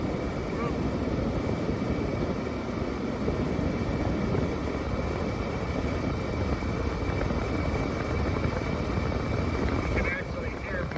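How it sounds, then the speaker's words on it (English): A Honda Fit's air conditioning blower runs on high, giving a steady, even whoosh of rushing air that continues without change, fairly quiet and close. "So I have the blower on high."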